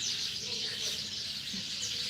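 Birds chirping in a tree outdoors, a steady wash of high twittering calls that carries on throughout without a break, with faint background noise and no voices clearly heard.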